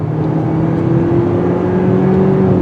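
A 2020 Mitsubishi Eclipse Cross SEL 1.5T turbo accelerates through its simulated gears. A steady engine drone heard from inside the cabin climbs slightly in pitch, with no talking.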